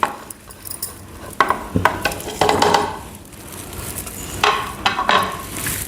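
Cumin seeds sizzle in hot oil for methi pulao, with metal spoon stirring and pan clinks breaking in as sharp bursts over a steady, close frying hiss.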